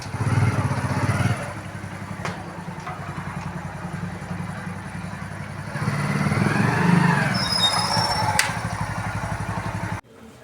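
A motorbike carrying a mother and her son rumbles steadily during a ride, engine droning with a clattering idle-like rhythm and a louder surge midway, occasional thin squeaks, no talk.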